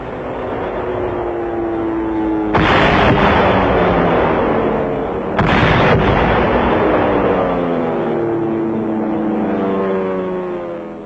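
Wartime footage of low-flying B-25 bombers blasting the walls of the fort at Mandalay, with artillery fire: a continuous loud roar overlaid by two heavy, sudden explosive bursts, each sustaining a rumbling boom before fading back into the din.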